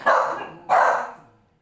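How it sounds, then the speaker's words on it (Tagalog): A dog barks at the neighbours: two sharp, close barks in quick succession, the second trailing off, with no talking. "Natahol ang aso sa kapitbahay."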